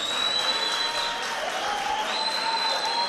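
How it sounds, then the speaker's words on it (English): Applause from the crowd at a boxing tournament after an eight-round bout went the distance, a steady, dense wash of clapping filling the hall at close range, with a little crowd noise mixed in. "Let's give the two boxers a big round of applause"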